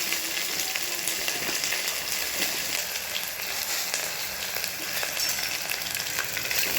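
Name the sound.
onions sautéing in oil for capsicum biryani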